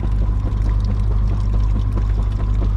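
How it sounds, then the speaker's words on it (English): Water pours steadily into a dug trench at a field excavation after a buried line is struck, a continuous close rushing gush with no talk. "Hit a bunch of water, just pouring into the trench."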